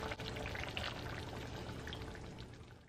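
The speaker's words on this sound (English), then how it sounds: "I'm gonna pour some on my potatoes and corns and my sausage." Seafood boil sauce being poured over potatoes, corn and sausage: a steady soft liquid pour with small splashes, faint and close, fading gently near the end with no talk.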